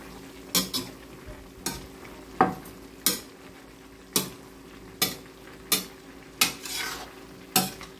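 Pinakbet vegetables stir in a cooking pot, a utensil clacking against the pot in about a dozen sharp, evenly spaced strokes over a quiet background.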